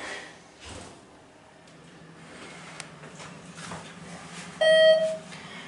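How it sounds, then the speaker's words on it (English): A ThyssenKrupp Endura hydraulic elevator in a university center gives one short, bright electronic beep like a grocery scanner. Quiet mechanical clunks and door sounds come before it. "It's got the grocery beep."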